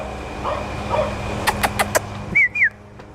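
Several dogs in their outdoor playground give a quick run of short, fairly distant barks, then a couple of higher whistle-like yips, with faint background noise and no talking.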